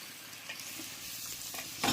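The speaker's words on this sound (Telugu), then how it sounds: "మంచిగా నూనెలో ఇట్లా కలపాలి" Brinjal masala with spices being stirred in hot oil, a soft continuous sizzle with light scraping strokes and a brief louder clatter at the end, close and quiet.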